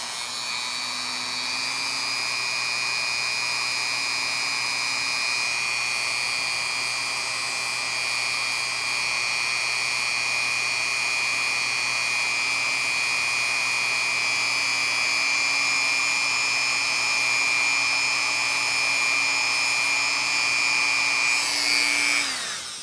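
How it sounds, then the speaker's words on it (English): A Dremel rotary tool grinds down a part of an HO scale Amtrak model coach, a steady high-pitched whine held for over twenty seconds, close and loud, then cutting off at the end. "I'm going to take my Dremel and just grind it down a little bit."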